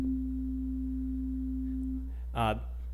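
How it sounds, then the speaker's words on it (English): A steady pure sine-wave tone from a synthesizer hums for about two seconds and then stops, followed by a brief unrelated burst of sound. "My synthesizer is just playing a pure sine wave."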